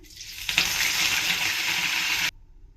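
Curry leaves, fennel, cinnamon, cloves and cardamom hit hot oil with a sudden loud, steady sizzle and crackle that holds for about two seconds before cutting off, with no voices over it.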